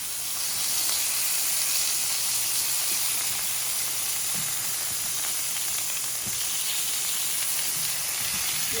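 Beets hissing and sizzling steadily in a hot pan as moisture steams off, a continuous close, even frying hiss with faint clicks and no talking.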